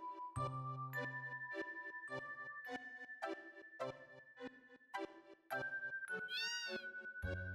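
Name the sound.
cat meowing in Final Fantasy VII video game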